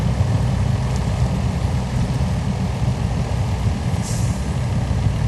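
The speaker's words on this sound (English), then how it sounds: "it's not that deep of water, but it's enough to twist and turn this truck around a little bit" A heavy truck in the off-road game SnowRunner pushes slowly through water, its engine a steady loud low drone with churning wash and a brief hiss partway through.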